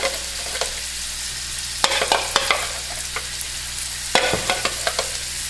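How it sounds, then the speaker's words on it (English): Onions and garlic sautéing in oil for a vegan curry coconut chickpea dish: continuous close sizzling broken by clusters of spoon stirs and scrapes against the pan, with no talking. "I am going to saute this just for a few minutes so that garlic smell can just infuse in that oil"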